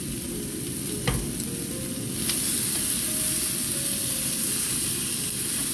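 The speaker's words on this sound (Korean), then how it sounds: "양파가 살짝 한 번 익었을 때 고기를 넣고 같이 같이 볶아주세요" Pork and onion stir-fry in a pan, giving a loud, continuous hissing sizzle with a couple of spatula knocks, the frying growing slightly louder partway through.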